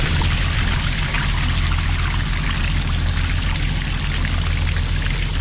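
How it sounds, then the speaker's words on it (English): Fluid drains steadily from a Massey Ferguson 7495 tractor on a dairy farm, a continuous close pouring and splashing stream that runs unbroken throughout with no talk. "I guess I can let it drain slowly."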